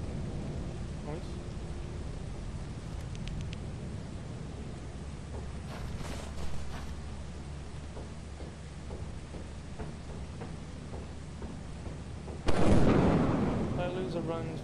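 A sudden loud lightning crack and rumbling thunder burst in a video game, following a long stretch of steady rain-like hiss and low rumble, the strike arriving late and decaying into a crackling tail.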